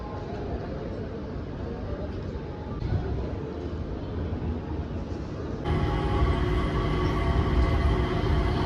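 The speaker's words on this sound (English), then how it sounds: "this is the SkyTrain. We are now leaving for Terminal 2." Steady rumbling hum of the SkyTrain airport shuttle at Singapore Changi Airport as it departs between terminals, growing louder and fuller partway through, with voices talking faintly over it.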